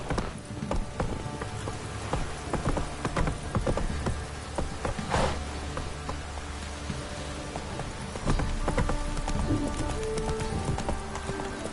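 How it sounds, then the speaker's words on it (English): Steady rain hiss in The Witcher 3 with the clip-clop of horse hooves plodding along, a close, rhythmic trot beneath the downpour and occasional clanks of gear. "this downpour's a bastard"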